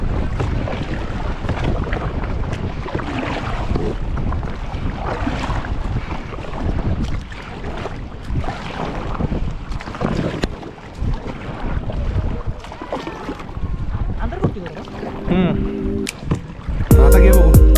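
A motor boat out on open water, close and loud, with rushing wind buffeting the microphone and splashing over a continuous engine drone, ending in a sudden burst of heavier noise.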